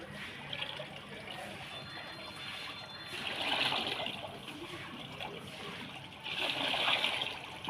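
Diluted buttermilk, one litre mixed into ten litres of water, is poured into a container, giving two louder bursts of splashing and trickling liquid over a steady, moderately close watery wash.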